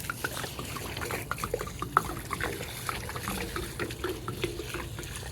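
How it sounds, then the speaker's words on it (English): Liquid urine fertilizer pours from a container onto garden mulch in a steady, close trickle with small splashes and drips, with no talking over it. "let's go ahead and pour some."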